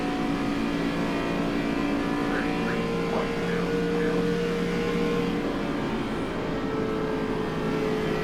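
An ARCA race car drives out of a corner, its engine a steady, loud drone with shifting pitch as it accelerates, heard continuously throughout.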